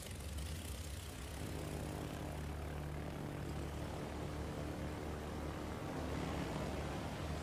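Aircraft propeller engines droning in a World of Warships naval battle, a steady, faint, continuous hum with no talk.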